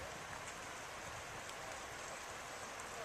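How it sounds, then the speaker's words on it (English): Light rain sprinkles outdoors during a flood, a soft, even hiss of drops that holds steady and faint, heard alone with no voices. "And it's still sprinkling rain."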